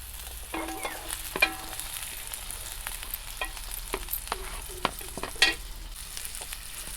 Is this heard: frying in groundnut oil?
yes